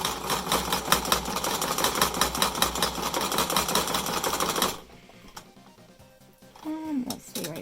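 A home sewing machine stitches a fabric mask in a fast, continuous mechanical whir of needle strokes, then stops abruptly, leaving quieter fabric handling and a voice talking.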